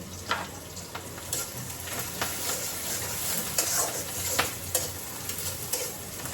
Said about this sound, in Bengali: এদিকে গরুর মাংসটা কষানো হচ্ছে